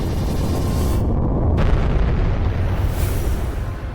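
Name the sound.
SpaceX Dragon 2 capsule explosion during Super Draco test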